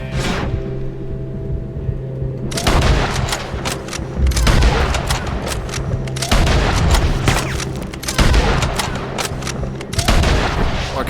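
Rapid bursts of gunfire from a Red Dead Redemption 2 shootout, loud and dense, with repeated volleys and booming shots stacking over one another after a quieter opening, and faint talk beneath.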